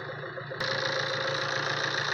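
A Tata Aria 4x4 seven-seater's engine runs close by at a steady, even idle, its throbbing hum stepping up louder partway through and then holding constant with no voices.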